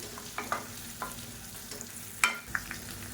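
Lump asafoetida and green chillies frying in hot oil for a South Indian side dish, heard as a quiet sizzle broken by a handful of small pops and light stirring taps, no voices.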